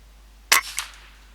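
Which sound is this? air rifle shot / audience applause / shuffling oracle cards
air rifle shot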